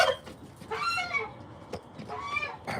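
Backyard fowl call out at feeding time, a few nasal goose-like honks and clucking calls in short bursts close to the listener, with turkeys arriving among the flock.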